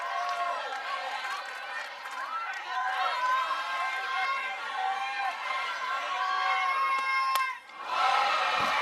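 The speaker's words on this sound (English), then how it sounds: "Did you hear the collective exhale from this crowd?" Sold-out college softball stadium crowd, Oklahoma versus Oklahoma State, a dense roar of many voices with shouting and cheering that swells, then dips sharply near the end before resurging.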